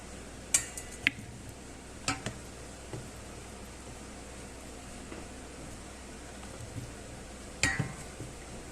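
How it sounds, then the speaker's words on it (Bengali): Boiled cauliflower florets lifted out of water onto a plate in a home kitchen, marked by a few sparse, light clinks of utensil against dishware over a quiet background. "এবার ফুলকপিগুলো আমি জল থেকে তুলে একটা প্লেটে রেখে দেব।"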